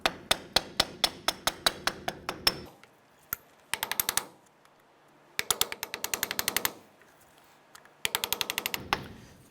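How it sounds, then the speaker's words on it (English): Metal tapping while prying off the wheel hub cover of a 1993-1997 Ford Ranger during front wheel bearing replacement: sharp, ringing hammer taps in rapid bursts of a dozen or so, close and loud, separated by brief quiet pauses. "as I'm tapping this, I'm slowly prying it out"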